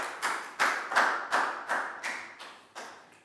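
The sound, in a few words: classroom applause, clapping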